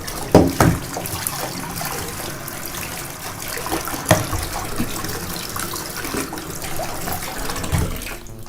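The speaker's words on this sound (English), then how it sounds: "and then rinse it in fresh water." Fresh tap water runs steadily while a scuba mask is rinsed under it, a continuous splashing gush with a few louder splatters.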